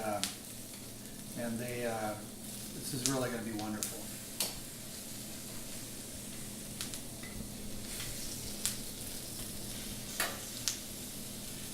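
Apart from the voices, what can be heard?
food sizzling and popping on salt brick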